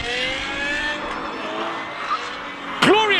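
A BMW V10 race car launches off the start line at a hillclimb, its engine note rising through a sharp, high-revving wail before a sudden burst of screaming revs near the end, heard at moderate distance.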